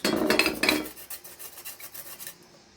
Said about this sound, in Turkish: Şimdi salatalarımı soyup onları bir güzelce rendeleyeceğim. Rendemin büyük yerinden rendeliyorum.